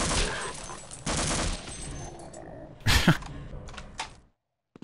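Rapid enemy gunfire in Half-Life, loud bursts of automatic fire with a sharp crack near the middle, then quieter clicks before the sound cuts to silence.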